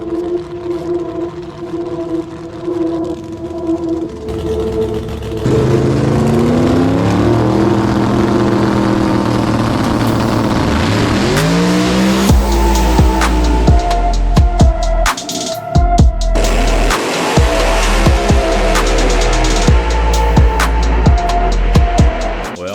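A Limited Drag Radial race car makes a full test pass down the drag strip, its engine droning up through the gears with loud, roaring revs and shifts, strong low rumble building steadily toward the end.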